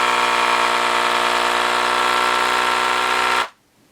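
The pump motor of a Gaojie S-998P desoldering gun runs with a steady, loud whir and a tonal hum, holding an even level before cutting off abruptly near the end into near silence.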